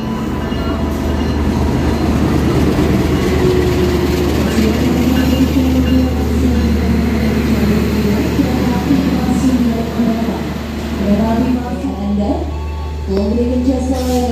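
The Pasundan train stands at Kutoarjo station with a loud, steady low rumble of idling machinery and drawn-out squealing tones rising near the end.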